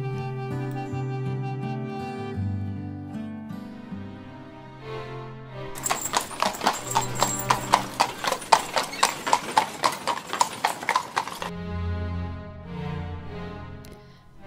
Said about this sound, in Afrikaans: Gisteraand het Gawie gou gaan galop op sy perd Gunther.